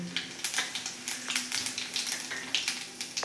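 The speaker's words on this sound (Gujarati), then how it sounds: "જો આપણું તેલ અહીંયા ગરમ થઈ ગયું છે હવે આપણે સૌથી પહેલાં જીરું નાખીશું" Cumin seeds sizzle and crackle in hot oil, a steady frying hiss broken by quick popping bursts throughout, with no talk over it.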